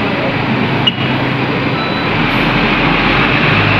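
A bus, number 581, pulls in at a stop near GoPark, its engine rumbling loudly and steadily with a reversing beep, while someone talks over it.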